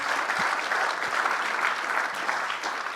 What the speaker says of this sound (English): let's please give a round of applause for your pastor and his beautiful wife.